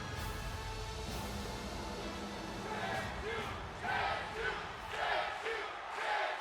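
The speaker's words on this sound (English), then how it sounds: "The crowd getting behind Andre." A wrestling crowd at an independent show cheers and shouts behind a wrestler, a steady roar of many voices that rises in repeated louder swells toward the end.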